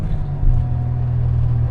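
A Suzuki Cappuccino's small turbo engine runs at about 5,000 rpm on full boost, a close, steady rumbling engine drone with a slight swell near the start.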